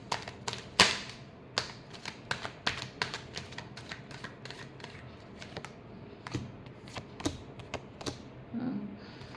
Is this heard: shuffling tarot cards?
yes